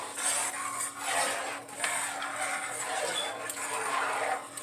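Spoon stirring bouillon into a pot, a steady scraping and rubbing swirl against the metal that runs without a break, close and moderately loud.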